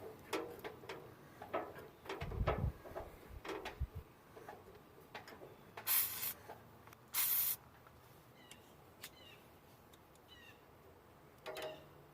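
Two short hissing bursts of penetrating oil sprayed onto a brake line fitting on a Jeep Comanche, set among quiet scattered clicks and taps of work nearby.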